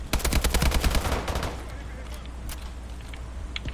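Rapid automatic gunfire in Call of Duty Advanced Warfare's Exo Survival co-op mode: a dense burst of loud, close shots over about a second and a half, then sparse distant pops, with players talking in the background.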